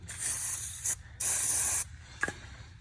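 WD-40 aerosol sprayed onto rusty bolts for a Range Rover Sport spare wheel winch: two sustained hissing bursts, the second longer, followed by a short tap, close and clear with no talk.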